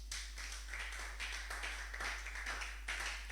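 A church congregation claps and cheers in praise of the Lord, a dense, steady wash of hand claps and voices with a few louder surges, filling the room without pause.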